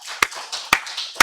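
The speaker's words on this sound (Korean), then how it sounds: "하나님께 박수로 영광 돌리겠습니다" During a Korean Full Gospel church Sunday service, three sharp, evenly spaced claps ring out clearly over a faint, steady background.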